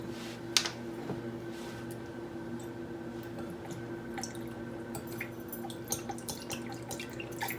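Red wine vinegar is measured out by the tablespoon for a Greek tzatziki or lemon marinade, giving soft drips and small liquid splashes with a few light clicks over a quiet kitchen background.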